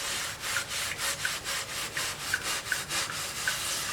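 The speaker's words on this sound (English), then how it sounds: "I'm just going to scrub in little circles and get rid of food residues that are still there" A cast iron pan is scrubbed wet in small circles to lift old food residue, giving a steady rhythmic rasp of about nine or ten close, fairly loud strokes with no voices.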